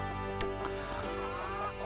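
A pet hen clucks in short bursts at close range over a steady background hum.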